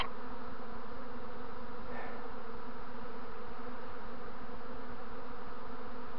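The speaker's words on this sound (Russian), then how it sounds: "Это пчел много" A dense swarm of honeybees drones steadily around an apiary during early swarming season, a continuous close, even buzzing hum with no voices.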